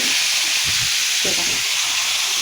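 Fish fries in fish oil in a pan, giving a loud, steady hiss and sizzle heard up close with no break.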